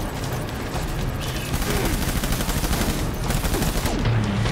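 Dense, continuous gunfire in the video game Death Stranding, rapid overlapping shots forming a loud, sustained fusillade with brief bursts layered throughout.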